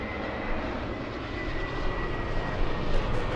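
An Alaska freighter aircraft at LAX airport, a loud steady engine roar that swells slightly toward the end, continuous with no talk.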